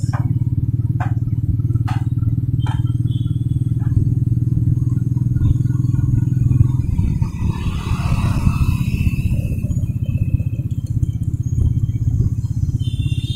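A Royal Enfield Meteor 350 motorcycle on the road, its low, steady single-cylinder thrum running throughout, with wind rush and rattling clatter building in the second half and a few sharp clicks early on.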